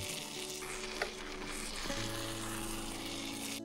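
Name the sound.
tandoori chicken pieces frying in oil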